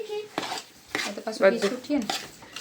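Adadiya pak mixture being stirred in a pan, with repeated scraping and clinking of a spoon against the metal in an uneven rhythm, close and fairly loud, with no talk.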